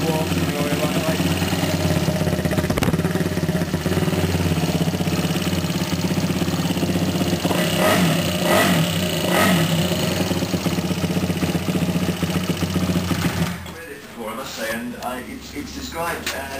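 A Kawasaki KXF250 dirt bike with an exhaust in need of repacking runs and warms up, its steady loud engine drone filling the scene with mechanical rattle; the tone shifts and thins near the end.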